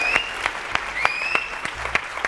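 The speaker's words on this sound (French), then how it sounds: "On va encore l'applaudir très fort, s'il vous plaît." A live audience applauds for a singer in a TV studio, a short burst of loud, close clapping with sharp individual claps over a bright electronic tone.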